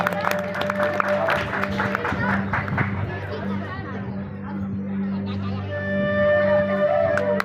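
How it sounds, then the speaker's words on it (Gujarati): Applause from a crowd at a temple ceremony for the Momai Mataji temple near Bhuj, Kutch, rising through steady chatter and voices with a sustained musical drone underneath. "તાળી વગાડજો ભાઈ, તાળી."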